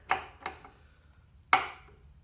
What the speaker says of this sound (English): 66 foot-pounds is what I have set on the torque wrench. And this is a click type.